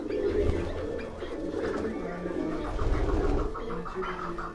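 Pigeons of a fancier's breed, held in a handler's hands, give low, throaty cooing close by, blending with handling noise and a faint murmur of voices in the background.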